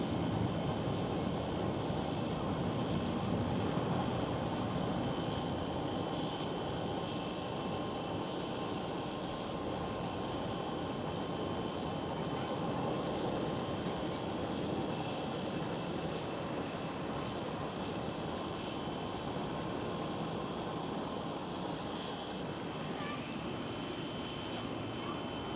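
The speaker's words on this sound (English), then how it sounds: "And right here goes KLM Cityhopper E190, taking off from runway 24." A KLM Cityhopper Embraer E190 jet takes off from runway 24 at Amsterdam Schiphol, giving a steady, loud broadband engine roar that holds for the whole stretch with no talk over it.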